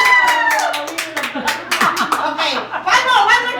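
Hands clap in quick bursts at a lively party, mixed with chuckles, cheers and voices talking close by.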